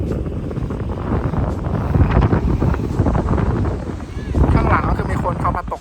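Wind gusting across a sunny beach in Delaware, a steady broadband rush that swells and buffets the microphone throughout, with a brief voice passing over it.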